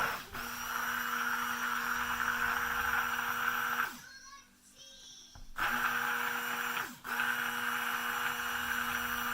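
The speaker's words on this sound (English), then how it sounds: "I'm going to buzz up my coconut milk, my kaolin clay, and my honey with my soft oils here." Blender whirring as it mixes coconut milk, kaolin clay, honey and soft oils for lavender honey soap, a loud steady motor drone that stops briefly midway and then starts again.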